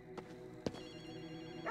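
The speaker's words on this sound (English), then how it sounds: "Do you hear a phone?" A phone rings inside the video game Ghostwire Tokyo, short bright ringing bursts with a faint footstep-like tap among them and soft ambient game sound underneath.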